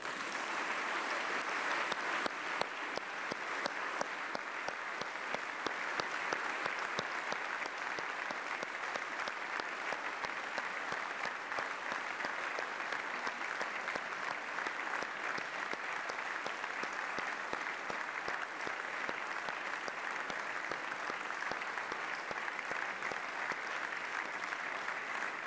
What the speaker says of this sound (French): et que nous les applaudissions.